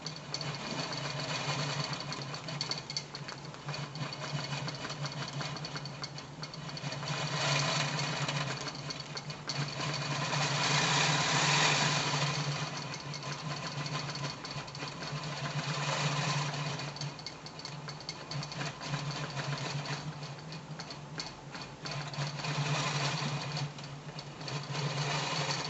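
A longarm quilting machine stitches a pantograph design across a quilt, giving a continuous mechanical whir with a rapid needle rhythm that swells and eases as it moves, steady and close throughout with no talking.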